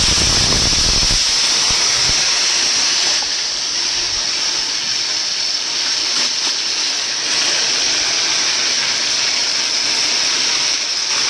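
Spice paste hits hot oil in a wok while a Saoji-style mutton trotter curry is cooked, giving a loud, steady, hissing sizzle that runs on without a break.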